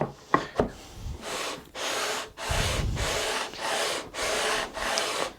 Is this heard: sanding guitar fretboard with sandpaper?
yes